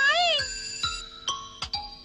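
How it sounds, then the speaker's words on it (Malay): A school bell in a Doraemon cartoon, sounded as a bright electronic chime: a warbling tone followed by four separate struck notes, each ringing briefly before the next. "Loceng dah berbunyi, tak sempat nak main."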